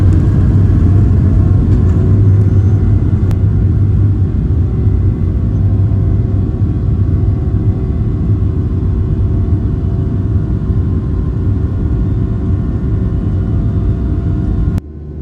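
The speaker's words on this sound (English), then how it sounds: "We taxied to the end of the runway, made our U-turn, off we went." A small plane's engine drones loud and steady at full power during a takeoff run from a snowy Alaskan runway. The deep rumble holds constant with no break for most of the clip.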